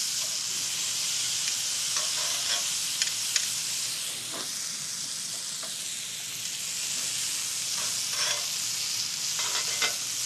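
Small asparagus spears and zucchini sizzling over gentle heat on a grill, giving a steady, even hiss with faint crackles and pops scattered through it, and no talking.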